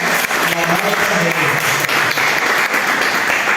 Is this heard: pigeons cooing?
no